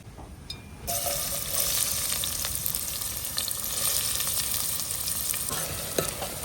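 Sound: onions frying in hot oil

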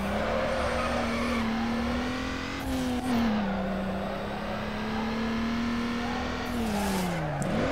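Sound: car drifting in Need for Speed Underground video game drift mode

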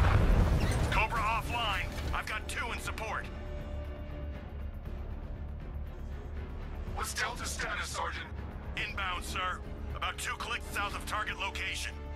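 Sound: explosions during Cobra tank fight in Batman: Arkham Knight video game

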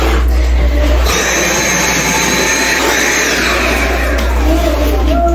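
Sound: vacuum cleaner running

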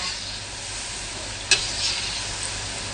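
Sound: fish-filled pastries frying in hot oil

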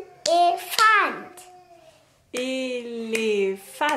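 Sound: child clapping syllables of the word Elefant

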